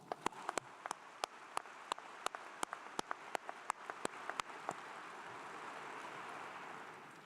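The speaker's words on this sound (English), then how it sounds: "that deserves a round of applause" Audience at a university ring ceremony applauds with scattered, distinct claps at first, the sparse hand claps then blending into a steadier, quieter wash of applause from a fairly distant crowd.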